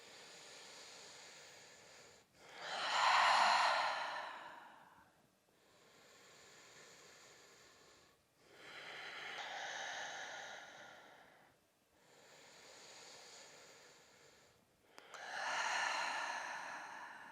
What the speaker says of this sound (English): Inhale through the nose, exhale out the mouth.